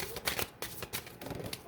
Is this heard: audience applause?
no